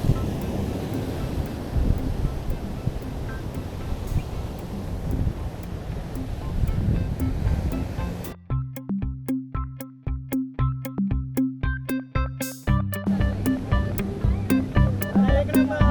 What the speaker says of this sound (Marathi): हे बघ लाटा बघ.